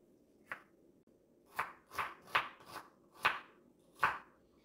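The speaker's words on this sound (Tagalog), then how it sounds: "tapos na tayong maghiwa ng ating tomatoes" A knife chops tomatoes on a cutting board in a home kitchen, giving six or seven close, distinct taps at an uneven pace against quiet background hiss.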